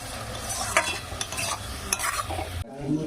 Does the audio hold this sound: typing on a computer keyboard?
no